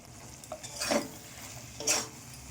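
Chicken cooking in a pan as pizza sauce is added for a homemade chicken pizza, with a soft sizzle and two brief scraping stirs about a second apart.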